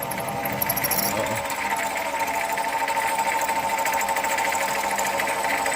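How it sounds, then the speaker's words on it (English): A new lathe bores into a workpiece with a long-fluted carbide insert drill, giving a steady loud grinding, rattling chatter with a high whine over it that runs continuously and close throughout. "So I'll keep drilling and then I'll show you what it looks like when I'm done"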